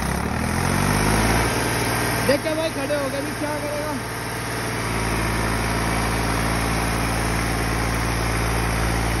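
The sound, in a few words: tractor engine running, 485 model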